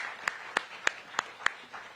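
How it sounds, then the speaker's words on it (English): Scattered, slow claps from an audience applauding councilmembers at a mayoral event, about five distinct sharp hand claps spaced evenly, fairly quiet and sparse rather than a full ovation. "So let's give each of them a round of applause for their work."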